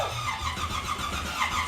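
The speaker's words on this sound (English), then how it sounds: "Go ahead and crank it. Just crank it without the fuel pump?" A small-block Chevy engine in a Porsche 944 cranks continuously without catching, fuel pump disconnected, a steady churning whir from the starter, fairly loud and close.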